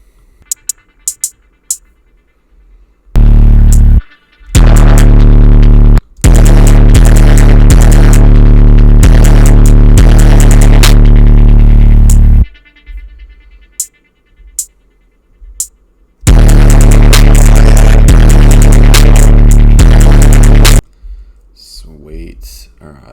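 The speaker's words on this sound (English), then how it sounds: "I don't like the sound of this hi-hat" A type beat with a hi-hat, heavy booming bass and dense loud sections cutting in and out between quieter gaps with sparse clicks, played loudly in bursts.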